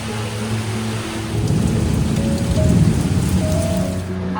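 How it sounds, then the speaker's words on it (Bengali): Heavy rain pours onto potted garden plants, a dense, steady hiss that grows louder and heavier partway through and stays close and unbroken. "ঝমঝমিয়ে বৃষ্টি হচ্ছে।"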